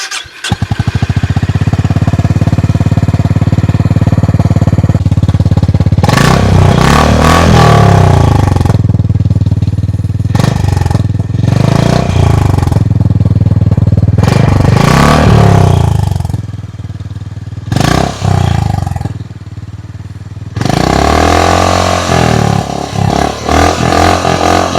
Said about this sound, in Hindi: चलिए अब सुनते हैं इस बाइक का एग्जॉस्ट.